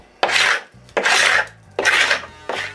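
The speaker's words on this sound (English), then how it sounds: "When it's dry, I take off the excess glue with a paint scraper." Paint scraper scraping dried excess glue off glued-up wood panels: four rough rasping strokes, each about half a second long with brief gaps between, close and clear, with no voices.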